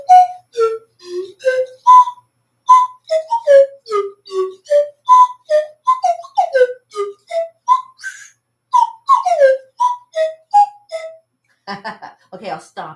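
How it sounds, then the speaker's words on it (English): Tin whistle played solo up close, a bright, loud run of short separate notes rising and falling in a lively tune, ending in a few quieter breathy notes. "I love playing the tin whistle."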